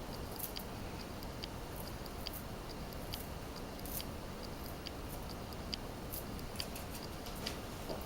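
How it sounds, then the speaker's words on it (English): Kitchen scissors snipping fresh parsley while pierogies are cooked, giving light, crisp clicks scattered through steady background noise, close to the microphone with no talking. "I just cut it with scissors because it's so much easier"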